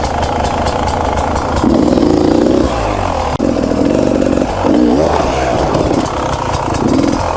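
An enduro trials motorcycle engine runs loud and close while the rider goes over pallets, with a continuous rough drone broken by repeated throttle blips and revving swells plus some mechanical clatter.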